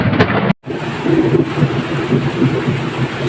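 Steady rain pours down with a dense hiss and low rumbling, briefly cutting out near the start before resuming.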